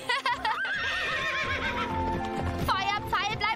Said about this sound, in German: Ich verschenke mein neues Pferd